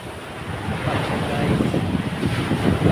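Sea waves wash onto a beach in a continuous rushing surge, with heavy wind buffeting the microphone and making the sound loud and rough.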